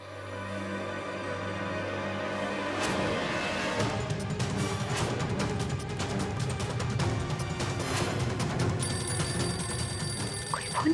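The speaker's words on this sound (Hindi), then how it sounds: "कोई फोन क्यों नहीं उठा रहा है?" A telephone bell rings on and on without being answered, a repeated ringing that stays fairly faint under a busy background of clatter and crashing noises.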